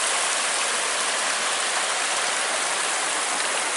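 An ice-cold stream on Oregon's Eagle Creek Trail rushes in a steady, dense, close wash of flowing water with no pauses and no voices.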